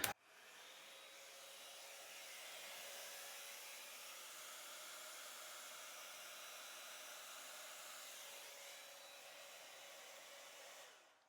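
A torch blows steadily across a wet acrylic Dutch pour painting, giving a continuous, even, hissing roar that lasts about ten seconds and then cuts off, with no voices.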